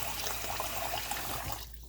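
Cold water is poured into a pot of rice, a steady close splashing trickle that runs continuously and then thins out near the end, with no talking.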